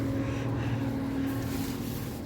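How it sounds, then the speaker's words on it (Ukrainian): A combine harvester's heavy engine rumbles steadily nearby in a village, a low droning machine sound that stays loud throughout without pause. "Вибачаюсь за шум, комбайн поїхав."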